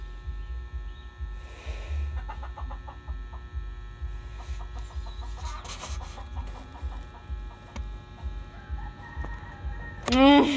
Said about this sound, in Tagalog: Yan po ang ingay ng manok sa labas